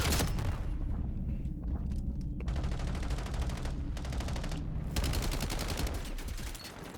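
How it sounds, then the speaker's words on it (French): Stun grenade going off in the shooter game Black Ops 7, set among dense bursts of rapid gunfire and sharp booms that run almost without a break from start to finish. "J'envoie une grenade paralysante."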